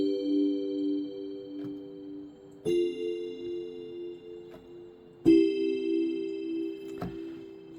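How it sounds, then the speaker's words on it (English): Roland Go Keys 5 organ bell tone played as three sustained chords, each struck with a bright attack and ringing decay, moderately loud and alone. "And in chords, it sounds like this."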